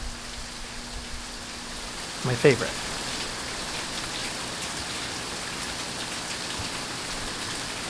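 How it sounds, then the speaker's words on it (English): Steady rain falls on a gray day with an even hiss, close and continuous, while a voice speaks briefly over it. "Yeah, the rain is picking up,"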